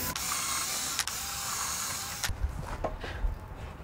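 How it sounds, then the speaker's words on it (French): A drill bores a pilot hole for a fence post in a privacy fence build, a steady close whirring that stops abruptly after about two seconds, followed by a few quieter knocks and handling sounds. "Effectue un pré-perçage."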